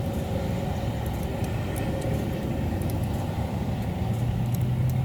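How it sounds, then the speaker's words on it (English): A low, steady rumble of distant traffic drones throughout, faint and continuous, like trucks passing far away on a highway. "just a couple of faint trucks out on the highway"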